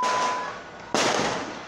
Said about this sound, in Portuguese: Os disparos ouvidos no vídeo